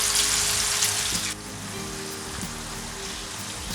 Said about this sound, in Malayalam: ഇനി നമ്മൾ മാരിനേറ്റ് ചെയ്ത് വെച്ചിരിക്കുന്ന ചിക്കൻ ഓരോന്നോരോന്നായിട്ട് അതിലേക്ക് ഇട്ട് കൊടുക്കണം